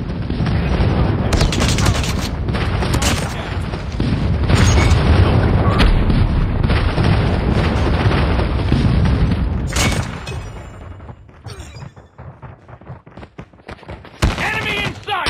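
Call of Duty gameplay with an airstrike: loud, dense rumbling explosions and gunfire pour out continuously for about ten seconds, then thin out into scattered sharper blasts and shots, with brief game voice callouts.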